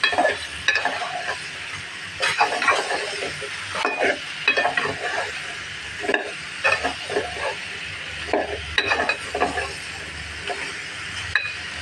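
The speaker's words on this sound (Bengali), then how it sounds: "লাউটা দিয়ে দিলাম আমি। এখন আমি সুন্দর করে কষিয়ে পানি দিয়ে দেবো।" Bottle gourd and egg are stir-fried in a pan, with a constant loud sizzle and hiss broken by repeated scraping strokes of a spatula, close up and without talk.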